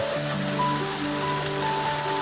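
Steady rain hisses continuously over a constant low hum at a quail farm, dense and fairly loud with no pauses.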